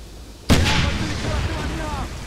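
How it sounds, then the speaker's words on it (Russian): Grenade explosion in the video game Wolfenstein, a single sudden loud blast after a quiet moment, followed by a rumbling, debris-filled tail that slowly fades, close range. "Граната!"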